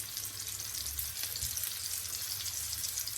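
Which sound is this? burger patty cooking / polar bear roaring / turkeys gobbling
burger patty cooking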